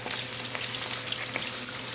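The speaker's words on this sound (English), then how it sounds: "Then we're going to start frying our fish." Snapper fish without any flour coating fry in hot oil, giving a steady, crackling sizzle with scattered sharp pops, close and continuous, with no talking.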